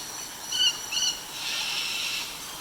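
Birds calling at the Parrot Mountain aviary in Pigeon Forge, Tennessee: a couple of short, high, shrill calls followed by a longer raspy screech, moderately distant over a quiet background.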